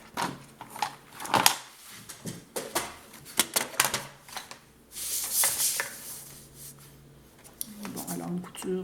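Paper being cut for a scrapbooking project, with scissors snips and crisp paper rustling coming in uneven bursts at close range while someone speaks French over much of it.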